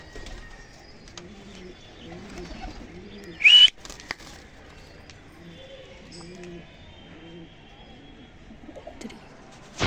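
Soft, low cooing from a black pigeon repeats in two rhythmic runs, with a sharp click and a brief flutter in between, in a quiet setting.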